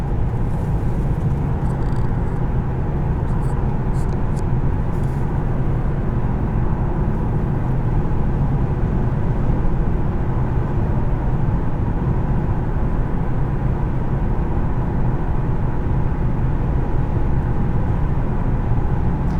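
A 2017 Infiniti Q70S sedan with a seven-speed automatic cruises steadily on the highway, its low, broadband road and engine rumble holding a constant level throughout with no talking.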